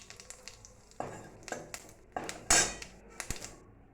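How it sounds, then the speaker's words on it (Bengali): Mustard seeds splutter and pop in hot oil in a kadai, a scattered series of sharp crackles and ticks of varying loudness with no voices. "তেলে সর্ষে ফোড়ন দিলাম"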